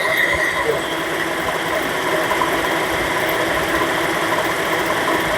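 A Proton Saga FLX running with the air conditioning on, its engine growing noisy: a steady close mechanical hum and rattle with constant whirring, no break in the sound.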